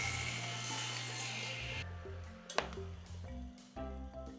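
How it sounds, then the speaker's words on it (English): A table saw cuts leftover wood off a plywood block for a pneumatic tool storage build: a steady broadband whine of blade through wood for the first two seconds, then the motor hums and spins down with a brief sharp knock. "With a little help of the table saw, we'll remove the leftover."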